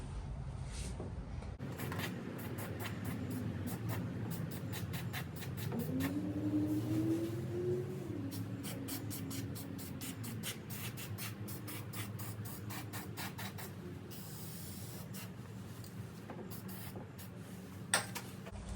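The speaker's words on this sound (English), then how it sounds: "we're just gonna spray all under here" Steady hiss of aerosol primer sprayed under the body of a 2011-2014 Dodge Charger, long continuous bursts broken by short pauses, close by with some rattling.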